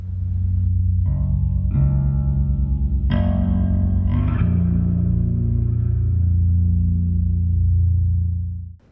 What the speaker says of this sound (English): There's something really satisfying about just hearing a bass string ring out and then hearing the fingers slide along.